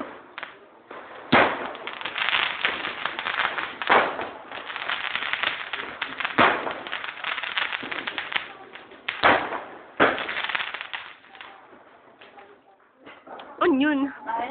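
New Year fireworks and firecrackers going off, with repeated sharp bangs and crackling bursts scattered across the clip at moderate distance, while people talk and shout nearby.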